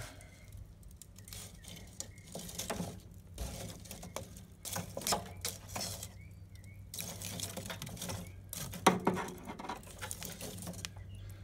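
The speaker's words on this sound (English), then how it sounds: "I think I'm going to stir up my wood here a little bit." Burning wood being stirred in the firebox of a BBQ smoker, a run of scattered knocks, scrapes and clatters with soft crackling and low background hum, no talk.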